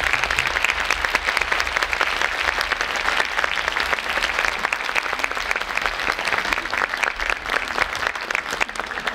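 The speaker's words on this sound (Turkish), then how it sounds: "Sazende dostlarıma da ayrı ayrı bir alkış için hamd ediyorum." Sustained applause from an audience for the musicians at a Mevlid Kandili special program, dense and even clapping continuing throughout with a low hum underneath.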